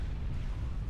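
A SACU unit blows up in Supreme Commander with a brief, dense low rumbling blast that fills the whole moment.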